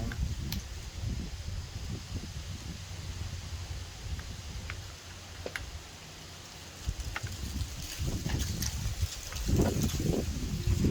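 Gusty wind blows outdoors in broad low rumbling buffets, rising and falling over several seconds and strongest near the end, with faint scattered clicks and rustles.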